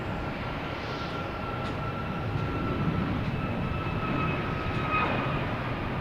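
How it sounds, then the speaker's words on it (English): A United Boeing 737 MAX 8 jet airliner at Boston Logan Airport, a steady, fairly faint engine rumble and whine with a thin drifting tone held throughout, heard from a distance with no talking. "Here's United heading to Houston, 737 MAX 8, flight 1851."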